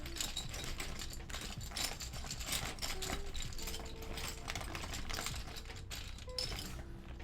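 Plastic keyboard keycaps get rummaged through by hand, a steady, close clatter of small light clicks and rattles with no talking.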